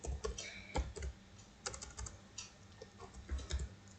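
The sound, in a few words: typing HTML code on a computer keyboard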